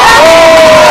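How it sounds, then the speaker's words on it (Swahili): A crowd at a public event at an education centre in Kibra, Nairobi cheers loudly, a dense, continuous wall of voices right up close. "Tupigie mheshimiwa wetu Bwana Orero makofi."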